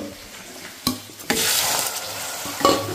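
Garlic and ginger paste hitting hot oil in a pan, with a loud sizzle and fry that swells after a sharp addition, plus a stirring scrape and a brief clink of metal near the end.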